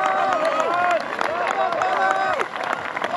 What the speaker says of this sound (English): Let him hear it, guys. Cheer him on.